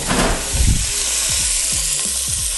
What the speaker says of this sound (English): if you don't hear that sizzle